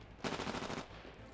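A single short burst of rapid submachine-gun fire in the video game Titanfall, fairly quiet and lasting about half a second, with no speech over it.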